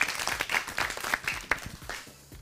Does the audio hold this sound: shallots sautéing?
no